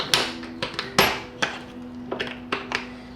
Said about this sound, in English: we're gonna pop this clip off that's underneath this metal hinge